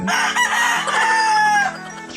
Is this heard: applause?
no